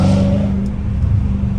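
A supercharged Dodge Challenger Hellcat Redeye's exhaust rumbling loud and close in a deep sustained drone, steady with no breaks.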